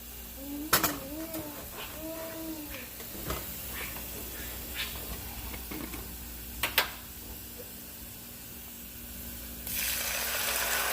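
Browned onions sit quietly in a pan with scattered clinks and scrapes of a utensil until tomatoes go in, when a strong, bright sizzle surges up and holds to the end.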